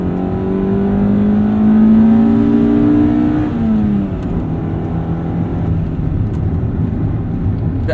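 A 1995 Honda Civic Si engine revs up with a rising whine, drops briefly at a second-to-third gear change, then pulls again with a steady droning hum from inside the cabin.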